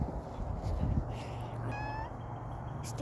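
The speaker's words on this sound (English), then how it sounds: "It's the kitty cat." A house cat meows in a dining room, a short rising call standing out clearly over steady room noise, heard once near the middle without talk.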